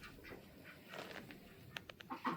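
Ducks kept in a barn during winter, giving a few scattered, fairly close calls and quacks over a low, steady background rustle, with a short burst of louder calls near the end.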